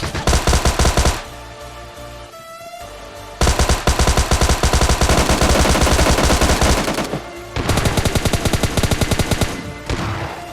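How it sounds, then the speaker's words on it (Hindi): Sustained automatic gunfire in the PUBG Lite battle royale game, loud and rapid. Dense bursts run through most of the stretch, broken by brief pauses, with no voices. "छत्तीस सौ गोली मारने के बाद इस बंदे को नॉक करता हूँ"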